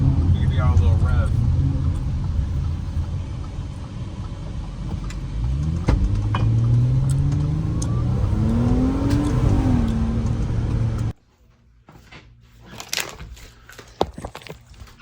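A car engine revs up with a rising, climbing whine through the middle of the clip under steady nearby roar, with a person talking over it, before cutting abruptly to quiet room sounds with faint clicks.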